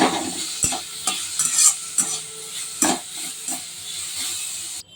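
Leafy greens (shak) cooking in a pan with a little water, a soft steady sizzle and hiss broken by several sharp scrapes and clinks of a stirring utensil.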